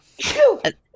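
A single sharp human sneeze bursts out at close range with a quick inhaled lead-in and an abrupt release, followed by a brief faint sound.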